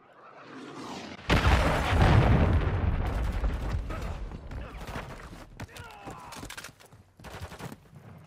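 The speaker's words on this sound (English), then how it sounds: "Hostiles launched the cruise missile." A cruise missile explosion in a video game: a heavy boom bursts in after a quiet lead-in, then rumbles and rolls on with scattered sharp cracks of gunfire and debris trailing away over several seconds.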